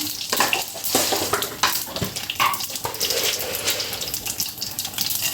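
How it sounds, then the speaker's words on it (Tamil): Mustard seeds, urad dal and fenugreek tempering in hot oil give a steady, dense crackling sizzle with scattered sharp pops, close and fairly loud, with no voices. "தாளிப்பு போட்டு போகிறேன் கொஞ்சமாக கடுகு உளுத்தம் பருப்பு கொஞ்சமாக வெந்தயம்"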